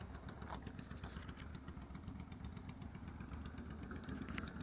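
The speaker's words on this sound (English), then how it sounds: "Come some motorbikes." Motorcycles passing on a road near the Tisza River in Hungary rumble steadily nearby, a continuous mid-pitched drone with no clear pause.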